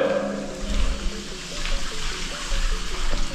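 A bicycle rolls through standing water on a gravel route in Brandenburg, with continuous splashing and trickling over a low rumble of tyres and moderate ambient noise.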